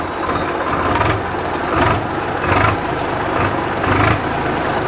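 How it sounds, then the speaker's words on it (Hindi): A Swaraj tractor engine runs steadily nearby, its low throbbing idle rising in brief bursts roughly every second, with no voices over it. "आवाज़ आप लोग ट्रैक्टर की सबसे पहले सुन लो।"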